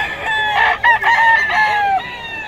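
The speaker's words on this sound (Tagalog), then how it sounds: "Talagang ready to go na mga manok ni Boss Russell" A rooster crows loudly and close at a gamecock market in Bocaue, one long drawn-out call with a rising then falling tail, standing out clearly against faint background noise.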